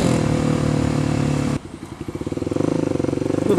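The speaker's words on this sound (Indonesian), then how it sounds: "test ride dari coba ini KLX 250 yang di modif jadi supermoto" A Kawasaki KLX 250 converted to a supermoto rides past close by, its single-cylinder engine droning loudly, then dropping and revving up again in a pulsing, rising roar.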